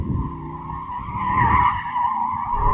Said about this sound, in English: I can just feel the tyres just chewing away at the tarmac